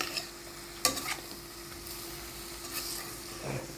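Shrimp sautéing in a hot pan, stirred with a utensil, giving a steady sizzle broken by a few sharp scrapes and clinks against the pan.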